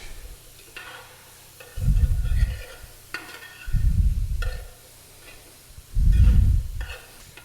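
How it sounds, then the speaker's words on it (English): A spoon stirs and scrapes across the bottom of a pot of Creole dish with thyme sprigs, three distinct loud scraping strokes at a steady pace with faint sizzling between them and no talk. "So we're stirring all this up real good, getting all those goodies off the bottom."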